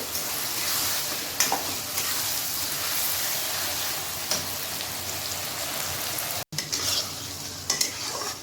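Spices and ginger-garlic paste fry steadily in a pan for chicken masala, a continuous close sizzle with occasional stirring scrapes and clinks, no talking.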